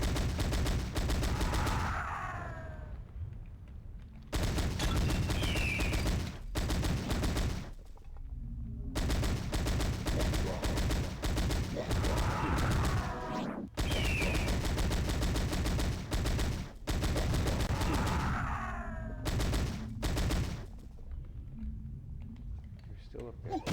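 Gunfire in PowerSlave on the Sega Saturn comes as long bursts of rapid machine-gun shots, loud and close, broken by a few short pauses, with a voice speaking at times.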